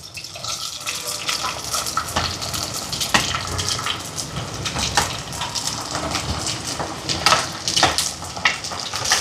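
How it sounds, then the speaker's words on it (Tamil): Garlic and chopped shallots fry in hot oil for a home-cooked fenugreek curry, giving a steady close sizzle and crackle with occasional sharper pops and stirring, no talking. "இப்போ வெள்ளைப்பூடும் சேர்ந்து கொஞ்சம் பொரியட்டும்."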